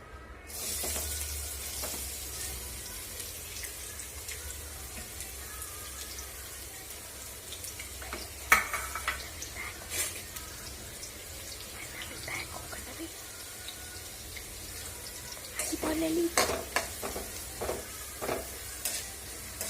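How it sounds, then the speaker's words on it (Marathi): Chopped onion frying in three spoons of hot oil over full flame for Kolhapuri misal, a steady close sizzle with occasional stirring scrapes and a few louder clatters, with faint bits of a voice in the background. "कांदा आपल्याला परतून घ्यायचा आहे ब्राऊन होईपर्यंत"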